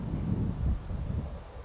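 Wind at an outdoor .22 LR long-range shooting range, gusting up to about 11 mph, buffets the microphone as a continuous low rumbling roar that swells and eases over a couple of seconds.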